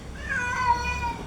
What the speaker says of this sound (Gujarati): અહીંયા પણ બિલાડી એવી આવી કંઈ સિંહ હોય એની જેવી પણ લાગે છે.